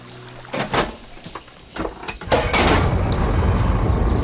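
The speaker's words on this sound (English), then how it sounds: "Sounds like the water's switched." Machinery switching water flow in Horizon Forbidden West: a couple of mechanical clunks and whooshes, then a steady loud rush of water that swells and keeps running to the end.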